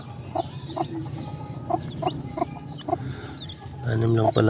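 Hens and chicks, native and wild chicken crosses, cluck in short, repeated bursts close by, with softer peeping and rustling, ending in a louder flurry of clucks.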